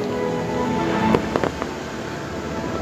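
A few sharp bangs crack out in quick succession over a steady background rumble, like fireworks going off at a middle distance, at a New Year festival at Fo Guang Shan in Kaohsiung, Taiwan.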